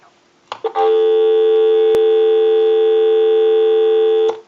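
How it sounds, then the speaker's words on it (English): A couple of clicks, then a loud, steady dial tone from a Western Electric 317 wooden wall crank telephone hums continuously for several seconds before cutting off with another click. "Give you some dial tone"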